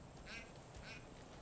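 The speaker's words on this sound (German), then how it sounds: "eine Ente!" A duck quacks in the video game Far Cry 5, two short nasal quacks close together over a dense background game ambience.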